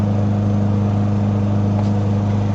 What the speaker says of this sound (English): It sounds like that guy's just idling the mower.